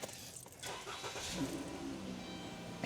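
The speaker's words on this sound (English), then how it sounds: "I'm gonna start the car back up." A 2011–2020 Dodge Grand Caravan engine cranks and catches in an open setting during a front wiper motor repair, settling into a steady idle rumble, near and fairly loud throughout.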